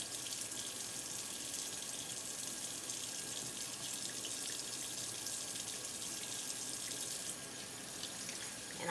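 Hands being rinsed under a steadily running tap during handwashing, a continuous close hiss of water splashing into a sink that holds evenly and softens slightly near the end.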